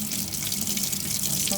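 Steady tap water runs into a sink while paint is rinsed off hands, a continuous close hiss and splash with no pauses.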